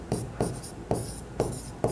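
Pen writing by hand on paper while working an accounting journal entry, a few short scratchy bursts of strokes repeating at a steady rhythm, close and fairly quiet.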